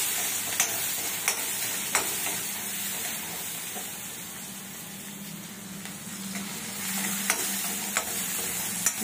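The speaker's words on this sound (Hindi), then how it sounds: "ये दोनों अच्छे से फ्राई हो रही है" Onion and green chili frying together in a pan after cumin has crackled, producing a continuous dense sizzle with a few faint clicks of stirring, steady and without talk.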